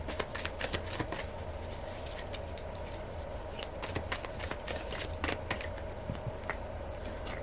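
Tarot cards are shuffled close up in quick, continuous riffles, with soft crisp card slaps in an uneven rhythm. No speech is heard.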